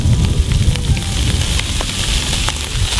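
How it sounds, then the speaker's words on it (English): Smoked sausage sizzles in a Dutch oven over a campfire, a loud, dense, continuous frying crackle heard close up with no voices. "ooh, that's a nice sizzle."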